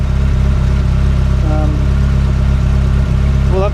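A car engine runs at a steady idle with a deep, even throb close by, a whiny tone briefly rising above it during an alternator test.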